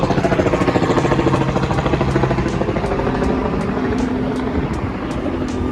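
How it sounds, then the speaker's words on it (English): A helicopter flies overhead above an oceanfront construction site at Myrtle Beach, its steady rotor chop and engine drone loud and continuous, easing slightly as it passes. "The official bird of Myrtle Beach, the helicopter."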